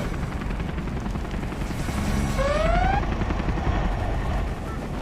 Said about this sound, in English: High-speed bomber ready for takeoff.